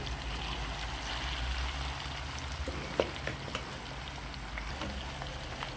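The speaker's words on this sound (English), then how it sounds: "And you let that fry until it gets golden brown" Steady crackling sizzle of fries frying in hot oil, continuous and close, with a few sharper pops rising above the hiss.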